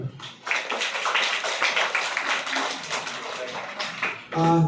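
Audience applause for Dr. Bajaj at an event, a sustained patter of many hands clapping at a steady moderate level.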